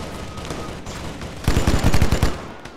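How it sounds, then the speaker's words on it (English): Gunfire in the military video game Arma 3: sharp shots and bursts ring out in a dense cluster of rapid reports midway, over a steady background din of battle. "Where the fuck are those shots coming from?"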